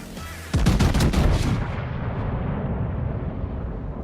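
A warship in a naval video game fires a salvo of armor-piercing shells: a sharp burst of heavy booming cannon shots, then a long rumbling roar that slowly fades.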